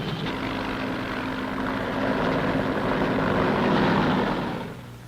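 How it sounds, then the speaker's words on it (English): Military helicopters in a fleet lifting troops and artillery into the hills around the Khe Sanh base in Vietnam, a steady droning rotor and engine roar swelling slightly louder then fading near the end. "Fleets of helicopters lift men and artillery into the hills surrounding the base."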